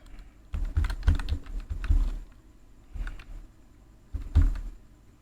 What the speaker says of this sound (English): then you type the greater than symbol, then you type the name of the file and its extension